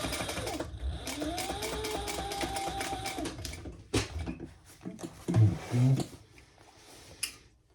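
A sewing machine stitches a diaper backpack up to the elastic, a steady mechanical whir with a few louder thumps and bursts toward the end.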